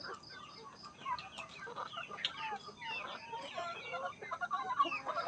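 Chickens clucking on a farm, a busy flock of overlapping clucks and squawks heard steadily and fairly close throughout.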